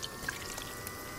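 Water in the Sons Of The Forest video game laps and gurgles softly and steadily in the background, faint and continuous with no voices over it.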